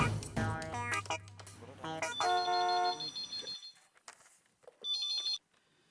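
Electronic telephone ringtone trilling in repeated bursts in a domestic sitcom scene, loud and close, with gaps between rings and a final short burst after a pause.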